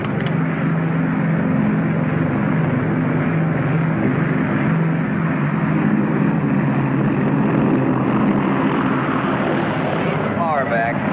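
A propeller airplane landing with full flaps drones in a loud, steady engine hum close inside the cabin, with a voice speaking over it.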